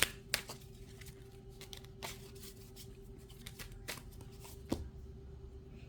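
Tarot cards are shuffled and drawn for a Cancer reading: soft, quiet snaps and slides come in scattered bursts over a faint steady hum.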